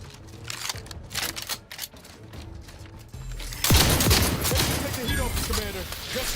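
Gunfire in The Outer Worlds 2: scattered sharp shots at first, then a sudden loud burst of rapid fire that keeps rattling on, with a voice talking over it.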